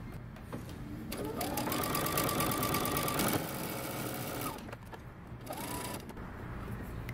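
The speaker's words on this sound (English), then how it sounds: "we're going to be stitching using 3/8 of an inch seam allowance." A sewing machine stitches a jumpsuit seam in quick whirring bursts, one long run of several seconds followed by shorter stops and starts, close and fairly quiet with no voices.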